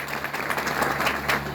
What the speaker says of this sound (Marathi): मी एकदा जोरदार टाळ्या वाजवून स्वागत करतो